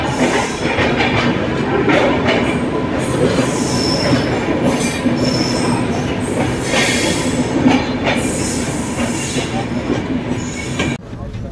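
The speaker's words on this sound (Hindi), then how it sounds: "सिग्नल ग्रीन मिला हुआ है, यहाँ पे स्किप कर रही है हमारे ट्रेन दोस्तों।" Passenger train 13230 Rajendra Nagar–Godda running through a station on a green signal without stopping, with loud continuous wheel squeal and rattling carriages heard up close from inside a crowded general coach.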